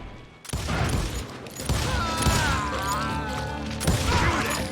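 Repeated pistol gunfire in the Western shooter game Call of Juarez: Gunslinger, with a dense burst of shots and crashing impacts following an opening moment of quiet, loud and busy throughout, with a whistling tone midway.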